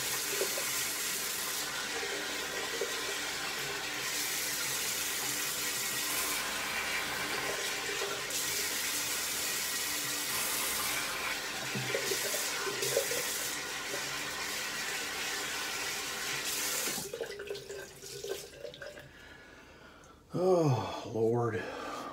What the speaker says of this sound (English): Does the water running aggravate people?